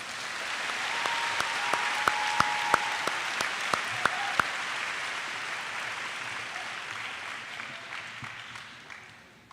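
Applause for student award recipients at a school awards ceremony: continuous crowd clapping with a few sharp nearby claps standing out, swelling early and then slowly fading toward the end.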